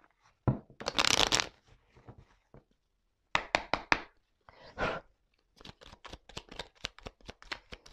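Tarot cards being shuffled by hand: several close, crisp riffling bursts separated by quiet gaps, ending in a run of quick rhythmic card taps and flicks.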